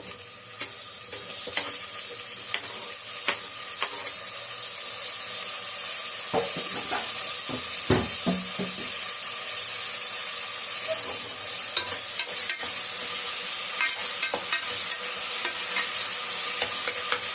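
Loud, steady sizzling of chopped tomatoes frying in a hot pan, with occasional stirring clinks and scrapes, close up and without speech.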